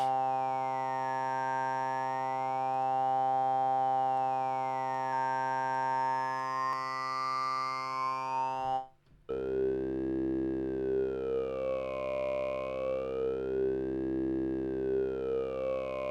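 A SynthMaster 3 synthesizer holds a sustained tone while its filter resonance is swept, making a bright whistling peak glide slowly up and down; after a brief gap the note drops lower with the same wavering sweep, alone without voices.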